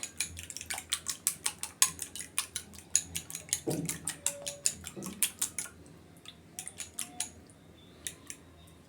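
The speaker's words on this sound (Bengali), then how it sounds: "সামান্য দুধ দিয়ে একটু ফেটিয়ে নিচ্ছি যাতে সুন্দর মতো ফেটানো যায়" Biscuit batter with a little milk beaten in a bowl, a fast run of sharp close clicks and taps from the whisk against the sides, slowing and thinning out toward the end, with a brief low knock midway.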